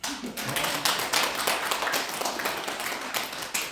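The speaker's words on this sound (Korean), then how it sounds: "그분에게 박수 한번 쳐주세요" An audience claps together in a Buddhist dharma talk hall, a steady, dense wash of many hands sustained for several seconds without speech.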